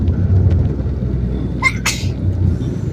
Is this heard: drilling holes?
no